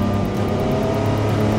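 A Porsche 962 turbo race car engine drones loud and steady from close by, holding a strong, even tone with faint rhythmic pulsing and no voices over it.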